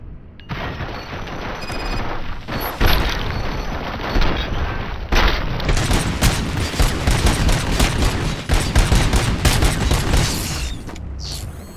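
Heavy gunfire in a RoboCop: Rogue City shootout, with dense rattling bursts, booms and mechanical clatter that build into a sustained, loud barrage. No one speaks.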